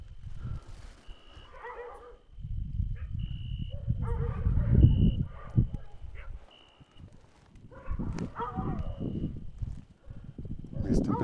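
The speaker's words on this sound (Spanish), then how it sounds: "Los perros ya no están ladrando por nuestra presencia. Si te das cuenta, ya es un ladrido muy diferente. Están hasta aullando." Several dogs barking and howling outside an abandoned property at night, repeated barks and drawn-out howls at a distance, with people talking quietly over them and a faint steady high tone throughout.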